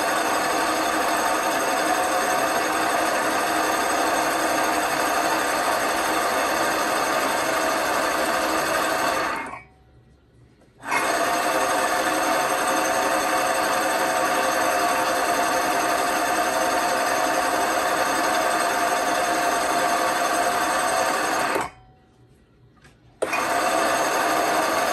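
A leather bell skiver machine runs steadily, shaving material off leather, a loud continuous mechanical whir that stops briefly twice, then resumes.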